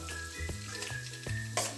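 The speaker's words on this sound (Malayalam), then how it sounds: "വെളിച്ചെണ്ണയിലേക്ക് ചേർത്ത് കൊടുക്കാം. എന്നിട്ട് നമുക്ക് നന്നായി വറുത്തെടുക്കണം." Grated coconut and spices fry in coconut oil in a pan for a roasted-and-ground Kerala chicken curry, giving a steady close sizzle with a few stirring scrapes across a short stretch and no talk.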